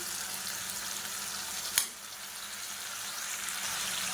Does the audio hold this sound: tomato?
yes